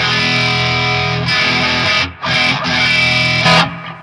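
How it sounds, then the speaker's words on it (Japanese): Electric guitar played through a True Drive overdrive distortion pedal, giving a loud, thick, sustained distorted tone with held chords and two short breaks between phrases, heard alone. "トゥルードライブっていうことで、まあ、一応ね、歪み系の エフェクターになりますので"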